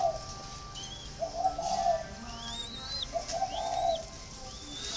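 A flock of young spotted doves coos close by in two soft, rounded calls a couple of seconds apart, with thin chirps and whistles between them.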